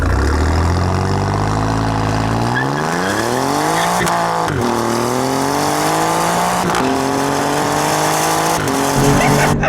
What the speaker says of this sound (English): the exhaust note has changed from when it was in regular drive mode to now in race. It's noticeably louder